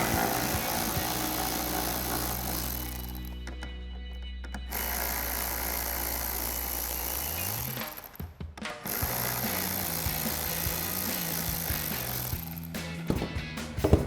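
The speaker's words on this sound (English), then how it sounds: "we're gonna grab our ratchet and our T20 socket and take our 3 screws out" Ratchet with a T20 socket backing out three trim screws from a RAM 1500 headlight, steady close mechanical clicking and whirring with brief pauses between screws.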